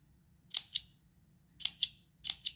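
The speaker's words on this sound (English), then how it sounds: "you're just going to cut the ends into like little slits like this" Sharp scissors snip slits into the ends of lace, three separate pairs of crisp, close snips spaced apart in a quiet room.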